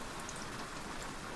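Steady rain falls in a soft, even patter, a faint continuous hiss of drops with no voices.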